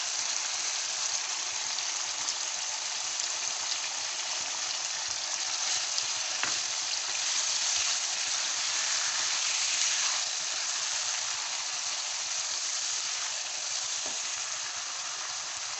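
Mutton kidney frying in a pan with garlic and ginger, a steady, close, continuous sizzle and hiss with faint stirring, no talking.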